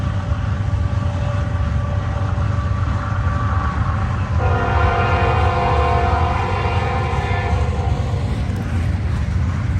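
A CSX freight train rolls past a private crossing, its steady low rumble of wagons continuing throughout while the horn sounds loudly in the middle and holds for several seconds.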